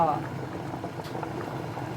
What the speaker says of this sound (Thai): หม้อนี้เราก็ตุนแกะเราสองชั่วโมงแล้วนะคะ